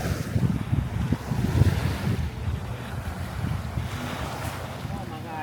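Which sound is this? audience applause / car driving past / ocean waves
ocean waves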